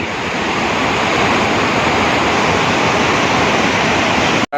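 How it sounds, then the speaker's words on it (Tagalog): Loud, constant rush of fast-flowing water after a typhoon, a dense roaring torrent close by that cuts off abruptly at the very end. "dito po rin nirinig ang agos ng malakas na tubig."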